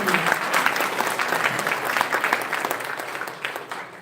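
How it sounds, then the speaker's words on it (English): Sustained applause from a conference audience after a talk, dense steady clapping filling the whole stretch at an even loudness with no speech over it. "A big round of applause for Dr. Phadtare."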